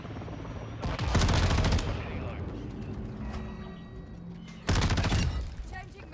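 Tempus Razorback rifle firing in Modern Warfare 2: two loud, close full-auto bursts, the first lasting about a second and the second shorter, separated by quieter game sounds, with talk in the background.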